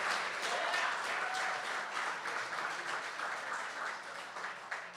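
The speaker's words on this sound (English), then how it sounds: "Give Reverend Jackson another loving round of applause" A church-event audience at a Rainbow PUSH Coalition Haitian Independence Day gathering gives Reverend Jackson a sustained round of applause, a steady wash of clapping at moderate distance, with faint voices mixed in.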